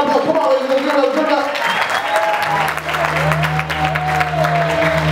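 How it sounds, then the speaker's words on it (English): Wedding guests applaud steadily in a sustained, dense patter of many hands, with an amplified voice talking over the clapping throughout. "Big round of applause. Come on, ladies and"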